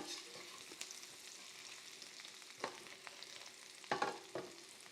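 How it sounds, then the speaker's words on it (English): Potatoes frying in garlic butter in a pan, a steady soft sizzle with a few sharper crackles and stirring clatters, heard close with no talk. "now what we're gonna do is just get these potatoes in that butter"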